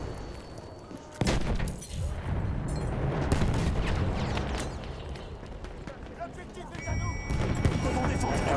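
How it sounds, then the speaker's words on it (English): Explosions and gunfire rumble through a Battlefield 1 multiplayer match on Xbox One, loud booming blasts and bursts of shots with a player talking over the din. "That explosion."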